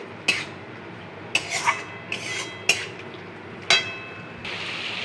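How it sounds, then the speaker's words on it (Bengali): Spice paste with dried chilli powder sautéed in oil for borar jal, heard mostly as a series of sharp metal spatula scrapes and clinks against the pan, about five distinct strokes over a faint steady background hiss. "তো যতক্ষণ না এটা কাঁচা গন্ধ যাচ্ছে, তেল ছাড়ছে, ততক্ষণ এটাকে আমি কষাবো"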